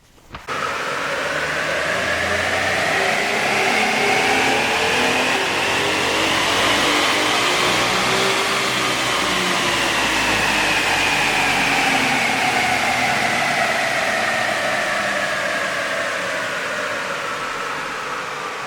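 A steady, loud engine roar from a Jeep Grand Cherokee or Dodge Durango on a dyno, held at high revs for the whole stretch, the pitch climbing and then slowly falling back, with no voices.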